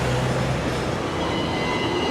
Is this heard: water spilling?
no